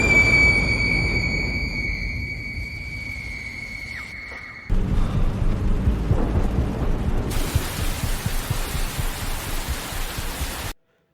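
Heavy rain pours in a steady, loud wash as a sudden storm breaks, with deep thunder rumbling underneath and a high ringing tone fading out early on before the downpour grows denser and then cuts off.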